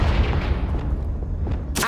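Confringo blasting curse detonates in Hogwarts Legacy, a loud, sustained booming rumble with crackling bursts and a sharp pop at the end.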